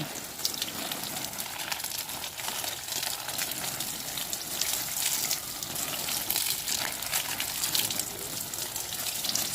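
Homemade insecticide is sprayed onto garden plants, a continuous hissing spray of liquid that stays steady and close with no pauses and no voices.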